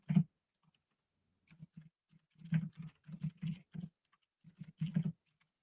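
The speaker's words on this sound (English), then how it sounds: "I could just be typing this." Keys clatter on a computer keyboard in quick irregular bursts of clicks, close and fairly quiet, with short pauses between runs and no talk.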